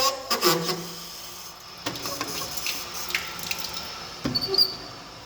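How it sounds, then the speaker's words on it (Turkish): Water rushing into an Ariston combi boiler once the fill valve is opened, with hissing flow and clicks, a few louder surges and soft clatter nearby, no talk. "Sola doğru vanayı çevirdiğimizde cihaz su almaya başlar"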